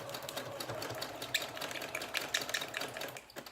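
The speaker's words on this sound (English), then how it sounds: "I'm using zigzag stitch." A sewing machine runs a zigzag stitch through paper for a junk journal, giving a continuous, fairly quiet, rapid mechanical chatter with light ticking that holds steady throughout.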